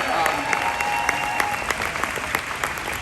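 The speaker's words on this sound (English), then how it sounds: "an applause for the staff of the Green Space" Outdoor concert crowd at Summerstage in Central Park applauding the venue staff, dense clapping with a few sharper individual claps and a faint sustained tone underneath, fairly loud and continuous.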